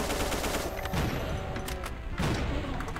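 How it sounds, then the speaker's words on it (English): Cannon fire in the shooter mod The Golden Souls, heard as repeated loud booming blasts against a dense, noisy game soundscape, with no talk. "I just love that cannonball. That cannon"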